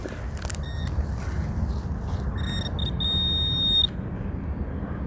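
A metal detector pinpointer gives a few short beeps and then a steady high electronic tone lasting about a second, close by, over outdoor background noise while searching surface finds at a new detecting site.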